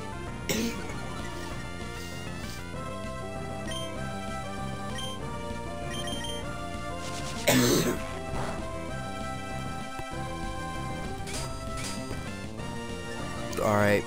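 A person coughs a few times, short rough bursts that stand out over a steady backdrop of chiptune game music from Pokemon Emerald, with talking nearby.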